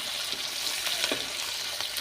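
Onions hit hot oil for a tadka in a Punjabi chappan kaddu sabzi, making a continuous close sizzle with light stirring scrapes and no talk.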